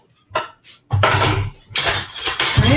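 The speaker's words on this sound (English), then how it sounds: "I am going to take another blender container." A plastic blender container is handled among dishes and pans in a home kitchen, giving a few close clattering knocks and clinks in short bursts with brief pauses between.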